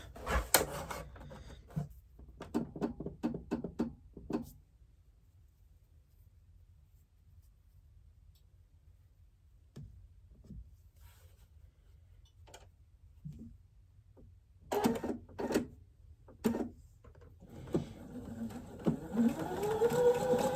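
A sewing machine stitches a quilt block in short bursts of rapid mechanical ticking, near and moderately loud, separated by a long quiet pause before running again toward the end.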